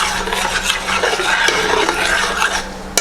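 Food is stirred in a cooking pot, with a scraping, swishing motion that repeats over a few seconds and ends in a sharp clink of utensil on metal.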